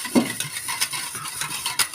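Beaten eggs are whisked in a bowl with quick, rhythmic clinks and scrapes of utensil against the bowl, close and fairly loud.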